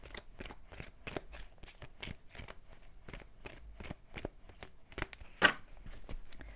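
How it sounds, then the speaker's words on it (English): A tarot deck is shuffled by hand in quick repeated riffles and snaps, a close, crisp series of card flutters with short pauses between, one slightly louder burst near the end. "Give me 2 more shuffles, please."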